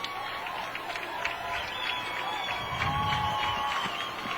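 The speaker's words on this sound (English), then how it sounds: "It'll get a "We Are Brother Rice" chant from the crowd here at Adams Field." Crowd noise from the stands at Adams Field during a Brother Rice vs Catholic Central high school football game, a steady broad roar with faint rhythmic pulses suggesting a group chant, fairly distant and continuous.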